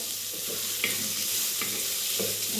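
Sliced onions sautéing in hot oil with rock salt for a chicken masala biryani, a close, continuous sizzle with a few spatula scrapes marking the stirring, no voices.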